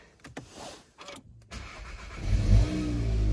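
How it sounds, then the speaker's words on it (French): A Golf 7 GTI 245 or Megane 3 RS 275 starting in the early morning: a few quiet clicks and a brief crank, then the engine catches and rises into a loud, steady idle rumble. "Ah, on va la démarrer car on est le petit matin."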